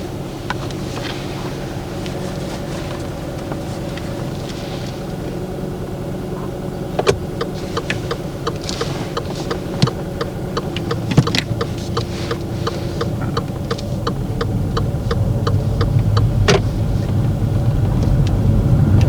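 Low engine rumble of a car during a driving test, moving off slowly past parked vehicles on a residential road, with a few faint clicks and a steady hum that swells slightly toward the end.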